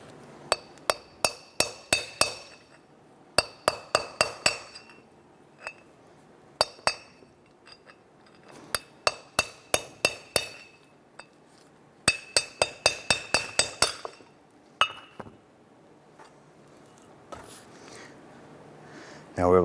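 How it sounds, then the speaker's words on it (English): A steel punch hammered against a wheel bearing race, working it around and out of a brake rotor on a 1994-2004 Chevy S10 front hub; bursts of sharp metallic clinks in quick rhythmic runs with brief pauses, close and loud, no talk. "We're going to continue to use our punch coming through on the other side and hitting this race, working our way around and popping this out of the brake rotor."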